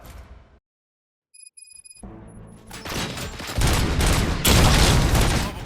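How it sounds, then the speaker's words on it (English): Gunfire in the video game RoboCop: Rogue City, a burst of rapid shots and booms that builds into loud, dense firing after a brief electronic tone and a moment of silence. "Gunshots? What's going on?"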